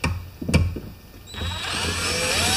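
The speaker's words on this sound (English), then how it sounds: "Yes, I'm assembling with a drill." A couple of short knocks, then a power drill driving screws while assembling an aluminium lawn mower whirs up steadily and close, its pitch rising slightly as it drives.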